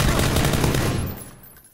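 Rapid automatic gunfire in PlayerUnknown's Battlegrounds, a dense loud burst of shots lasting about a second before trailing off quickly.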